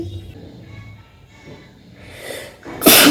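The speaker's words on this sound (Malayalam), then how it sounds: "അപ്പോൾ നമ്മളുടെ 6 തുമ്മലായി കഴിഞ്ഞു" One loud, sharp sneeze bursts out at the very end of a sneezing challenge, preceded by a rising breathy intake and low, quiet background murmur.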